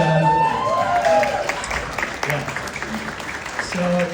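Audience applause breaks out at a community gala, a steady wash of clapping from a crowd that carries through the whole moment while a speaker's voice talks over it.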